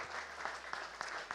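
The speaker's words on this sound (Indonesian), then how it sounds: "Tepuk tangan." Soft, distant applause from an audience at a basketball team launch event, with a few sharper claps standing out over a quiet, even patter.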